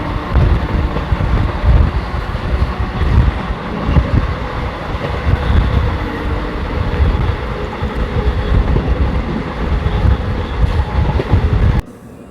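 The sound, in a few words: moving train 14526 Shri Ganganagar–Ambala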